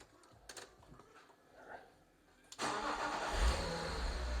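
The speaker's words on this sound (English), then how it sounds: "I'll start it up again, you can catch the exhaust." A Datsun project car fitted with a BMW engine sits quiet with a few faint clicks, then cranks and fires, settling straight into a loud, steady idle with a deep exhaust rumble.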